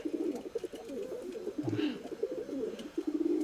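A pigeon kept by a fancier coos in a continuous throaty, rolling series close by, with no talk over it.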